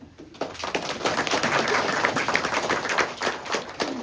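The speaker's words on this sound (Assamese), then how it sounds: "সকলোৱে অলপ হাত তালি দিব" A congregation claps at the inauguration of a Baptist church in Chandrapur, a dense, sustained patter of many hands that keeps a steady level from start to finish.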